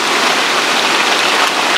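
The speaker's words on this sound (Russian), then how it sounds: "а дождь идет" Summer rain falls in an even, dense hiss, loud and close, with no pauses or voices over its brief length.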